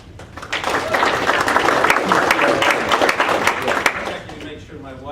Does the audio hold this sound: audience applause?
yes